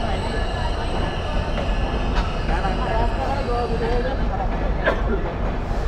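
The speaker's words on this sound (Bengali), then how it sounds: "এই যে এখন মাত্র বেনাপোল এক্সপ্রেস ঢুকলো।" The Benapole Express train pulling into Benapole railway station, a steady loud rumble of wheels on rails with faint squeals, while people talk nearby.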